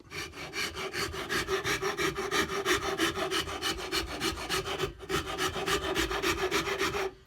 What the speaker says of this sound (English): Now comes the shinto, where I carve out